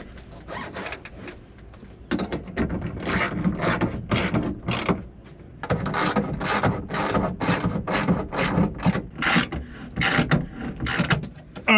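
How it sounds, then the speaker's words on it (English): Clamps for an inflatable truck camper shell are pushed into place and slid along their track, giving repeated close scraping, ratcheting clicks in bursts with short pauses between. "So I'm just gonna push up, get that clamp in, and then slide it down to the end,"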